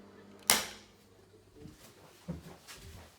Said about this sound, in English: So anyway, so I'll just demonstrate the isolator switch.